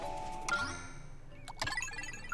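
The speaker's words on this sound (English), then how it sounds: "I'll hit the bell." A bright in-game bell from Pikmin 3 Deluxe chimes twice, each strike a clear ringing tone with a short decay, faint against quiet game background.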